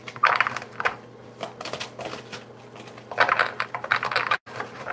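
Rapid papery clicking and riffling of tarot cards in uneven bursts, close up, being handled and shuffled, with brief pauses between flurries.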